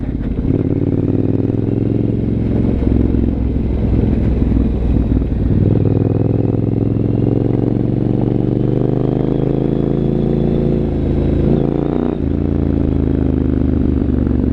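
A Triumph Scrambler 900 with an Arrow exhaust rumbles loudly and steadily while riding a gravel road, its engine note close and continuous with shifts in throttle and faint clatter.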